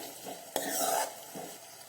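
Tomatoes sautéing in a pan for a mixed vegetable curry, with a soft sizzle under a spoon scraping and stirring, one sharper clink, close and quiet, with no talking.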